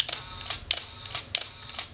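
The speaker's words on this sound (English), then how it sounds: "you can hear it's not the speediest camera, but there you go, that's continuous." A Leica M9 shutter firing in continuous shooting mode gives about seven crisp mechanical clicks in two seconds, evenly spaced and close up, with nothing else heard.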